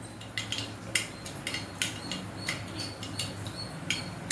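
Mustard seeds spluttering in hot oil in a pan for green peas kootu, a steady scatter of small sharp pops and crackles, some louder bursts, over a low background hum.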